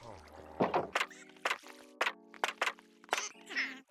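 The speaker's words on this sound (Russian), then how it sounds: "Открываем калитки." Wooden fence gates opening in Minecraft, a series of sharp clunks and thunks spaced through a few seconds over a steady low tonal hum, loud and close with no voices.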